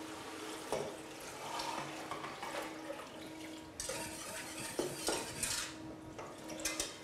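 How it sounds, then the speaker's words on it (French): Fish stock is poured into a pan holding a tomato concassé and concentrate for a lobster bisque. A soft liquid pour runs through steady kitchen clatter of pans and utensils, with occasional sharper clinks. "venir verser le fumet de poisson"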